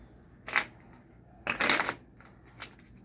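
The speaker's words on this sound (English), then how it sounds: "We're just going to mix them up a little bit." Someone shuffles a deck of playing cards before a card trick: three quick riffling bursts, close and crisp, with short quiet gaps between them and no talking.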